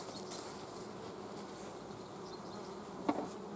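Bees hum steadily inside a beehive, a soft, even drone that holds for a few seconds, with a brief knock near the end.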